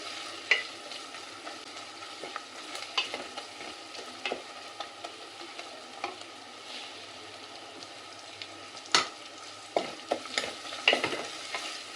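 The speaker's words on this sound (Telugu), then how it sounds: "అల్లం వెల్లుల్లి పేస్ట్ పచ్చి వాసన పోయే వరకు వేయించుకోవాలి" Ginger garlic paste fries with onions for a restaurant-style chicken fry, a steady sizzle broken by scraping spoon strokes against the pan at irregular intervals, close and moderately loud, with no voices.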